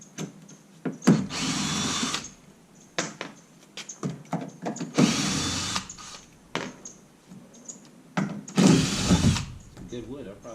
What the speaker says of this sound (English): I'm going to get a drill for this, try to drill this out